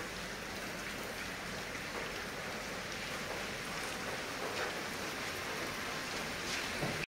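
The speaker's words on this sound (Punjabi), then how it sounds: "ਸਾਰੇ ਪਾਸੇ ਰਾਤ ਦੀ ਬਾਰਿਸ਼ ਹੈ ਜੀ" Steady, even hiss of night rain falling on the road to a town in Punjab, unbroken and moderately quiet, with no voices.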